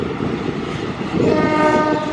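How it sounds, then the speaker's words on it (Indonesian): A local train passing through Bandung station sounds its horn, a steady tonal blast that swells louder partway through over the continuous rumble and rolling noise of the railcars, close by. "Wih, kasih klakson juga."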